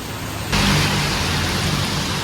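Heavy rain in Thailand starts abruptly and pours as a dense, steady hiss close by, drumming on surfaces with no voices.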